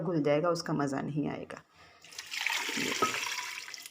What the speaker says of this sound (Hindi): बस हमने इसमें इतना ही पानी शामिल करना है